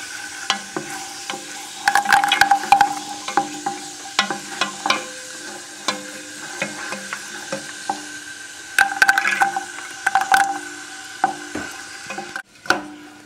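Carrots stirred in a hot soup pot for tortellini soup, with a steady close sizzle and frying crackle under repeated scraping stirs and clinks against the pot, no talking.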